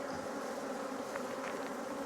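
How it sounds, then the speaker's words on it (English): Honey bees buzz around a beekeeper at a new apiary during queen cell work, a steady, faint, droning hum of many insects with no voices. "I've got bees flying all around me"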